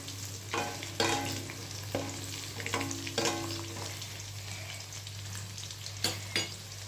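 A vegetable side dish meant for veg chow mein is stir-fried in a hot pan, with steady sizzling, a constant low hum, and several sharp clinks and scrapes of a spoon tossing the food at irregular intervals.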